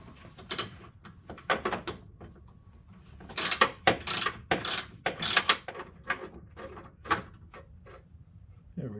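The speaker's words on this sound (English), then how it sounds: "So I'm going to take out this last bolt on this side." Hand ratchet working a bolt loose on a 2008 Acura MDX engine during cylinder head removal, bursts of rapid metallic clicking in short strokes, close up, with pauses between and faint background hum.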